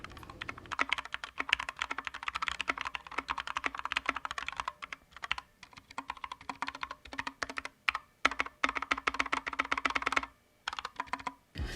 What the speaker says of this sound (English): Next up is a typing test to showcase the sound of the board.